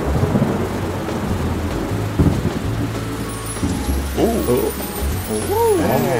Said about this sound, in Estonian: See on torm!